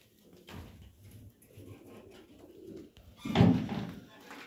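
Farm pigeons coo softly and intermittently, then a louder, fuller burst of cooing arrives near the end, heard close by amid faint rustling.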